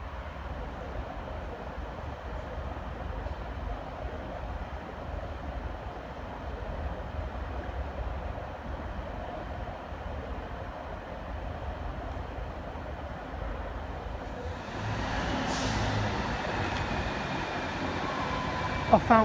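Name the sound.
Class 153 diesel train departing Stoke-on-Trent for Crewe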